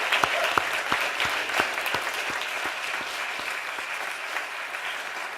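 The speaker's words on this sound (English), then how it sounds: "how about a round of applause for our distinguished panel this evening?" A seated audience at an evening panel event on environmental toxics and breast cancer applauds the distinguished panel, steady dense clapping with a few sharper claps standing out, sustained throughout.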